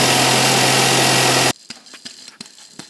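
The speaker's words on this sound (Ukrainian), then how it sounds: "Такий звук ролик видавав." A car engine runs with a loud, steady mechanical whine and rattle from a worn belt roller for a moment, then cuts out, leaving quiet clicks and shuffling.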